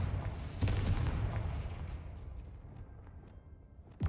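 A Confringo blasting spell detonating in Hogwarts Legacy against a castle wall, one sharp loud explosive burst followed by a long rumbling decay that fades away, with a second hit starting right at the end.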